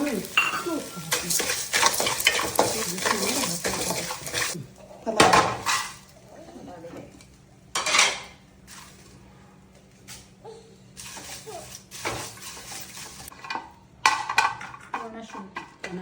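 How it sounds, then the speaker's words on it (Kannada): Fenugreek seeds, kasuri methi, mace and stone flower are dry-roasted together in a pan for homemade sambar powder, with steady scraping and rattling stirring in bursts and brief pauses, close and clear, while a voice occasionally talks. "ಮೇಥಿ, ಕಸೂರಿ ಮೇಥಿ, ಜಾಪತ್ರೆ, ಕಲ್ಲು ಒಟ್ಟಿಗೆ ಹಾಕಿ ಉಪ್ಪು ಹುರ್ಕೋಬೇಕಮ್ಮ"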